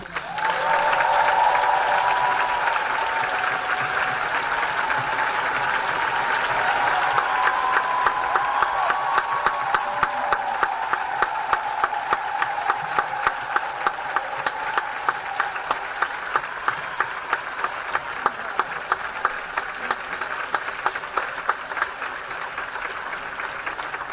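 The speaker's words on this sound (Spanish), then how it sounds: "quiero señalar y pedir un gran aplauso" Sustained applause from an assembly audience, a dense wash of clapping that carries steadily for the whole stretch, with faint voices mixed in early on.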